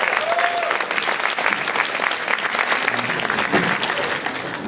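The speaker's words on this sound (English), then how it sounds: "Round of applause for all the sponsors." Sustained applause from a large audience, steady and dense clapping throughout with no pauses.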